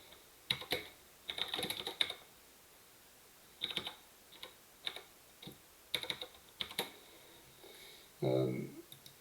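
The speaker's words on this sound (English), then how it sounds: "So I type that in the search." Computer keyboard typing a search query, short bursts of quick close key clicks separated by pauses, with a brief low voice sound near the end.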